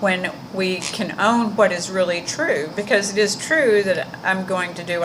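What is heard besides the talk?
None of the usual background noises is heard.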